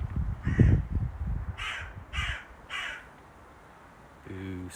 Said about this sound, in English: I think that might be at least a rook